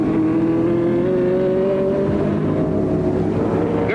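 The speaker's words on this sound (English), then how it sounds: "Gurney smoking those rear tires back into the race." A race car smoking its rear tires as it accelerates back into an automobile race, a loud, steady engine drone rising gradually in pitch over several seconds, close and without talk.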